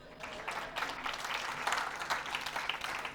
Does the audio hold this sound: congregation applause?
yes